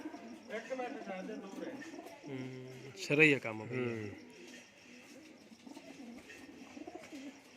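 Several pigeons in a Punjabi loft coo softly and repeatedly in the background while someone talks over them near the start and middle.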